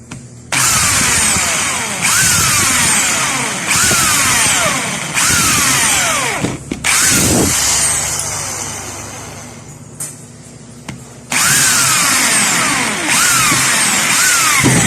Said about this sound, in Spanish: Y ahora simplemente cogemos la broca y hacemos un hueco.